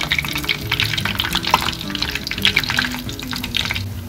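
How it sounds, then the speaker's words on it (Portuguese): Oil heats in a pan for frying patacones, giving off a continuous close crackling sizzle with scattered pops and spits, steady throughout and without talk. "Agora eu vou aquecer o óleo para fritar nossos patacones."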